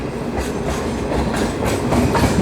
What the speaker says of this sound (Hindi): और कोई ट्रेन के साथ क्रॉसिंग भी हो रही है हमारी। सो ये है हमारी बेंगलोर राजधानी,